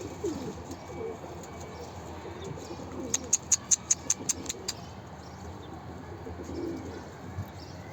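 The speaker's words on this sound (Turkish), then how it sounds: "Bir tane boğma hünkârı dediğimiz kuşlardan geldi" Soft, low cooing of a boğma hünkârı pigeon in a quiet setting, joined midway by a quick run of sharp, high clicking bird sounds before it settles again.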